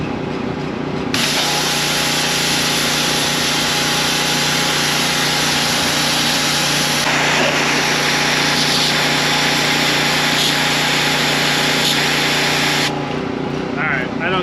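A pressure washer fitted with a sandblaster kit runs loud and steady close by, a continuous high hiss and motor drone that starts abruptly and cuts off near the end.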